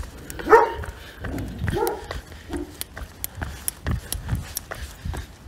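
A dog pulling along on a walk gives a mix of short barks, yips and whimpers, close by and in an irregular burst of repeated calls.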